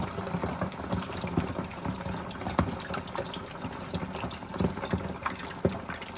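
Chicken wings frying in hot oil, with steady crackling and popping spatter running throughout, dense and close with scattered louder pops.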